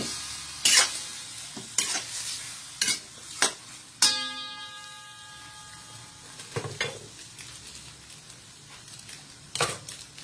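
A spatula scrapes and clacks against a pan in sharp, irregular strokes while squid adobo bubbles and sizzles softly underneath, with no voices.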